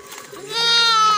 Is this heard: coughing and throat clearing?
no